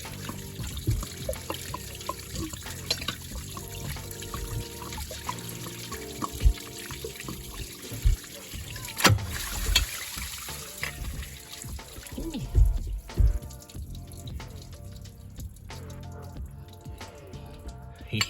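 Coolant water drips and trickles steadily from a Hyundai Tiburon V6 engine for a long stretch, with scattered clinks and knocks of handling nearby and no talking.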